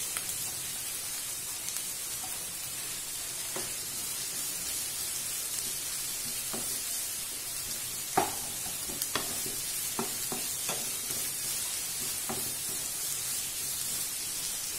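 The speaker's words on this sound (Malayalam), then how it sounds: "ഇനി നമ്മുടെ എണ്ണയിലേക്ക് രണ്ട് വലിയ സവാള ഇട്ട് കൊടുക്കുകയാണ് ചെറുതായിട്ട് കട്ട് ചെയ്ത രണ്ട് സവാള" Two finely chopped large onions frying in oil for onion chutney, a continuous soft crackling sizzle with occasional sharp spatula taps and scrapes, no talking.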